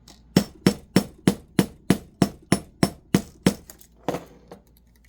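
A house hammer strikes a wire-wrapped braided Celtic bangle bracelet laid on the bottom of a cast iron skillet, giving about eleven sharp metallic blows in a steady rhythm, close and clear with no talk, then a pause and one last hit.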